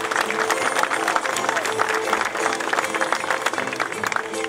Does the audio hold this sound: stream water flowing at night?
no